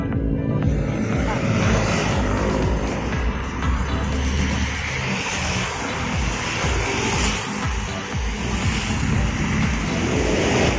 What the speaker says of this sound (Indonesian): Ini armadanya menggunakan jet bus 3 double decker bermesinkan Mercy OC 500 RF 2542.